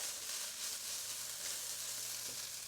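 Food being stir-fried with teriyaki sauce in a pan produces a moderate, continuous hiss and sizzle, fairly quiet and steady throughout, with a faint low knock near the end.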